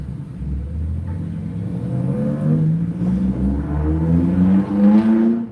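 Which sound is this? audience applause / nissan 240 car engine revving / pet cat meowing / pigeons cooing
nissan 240 car engine revving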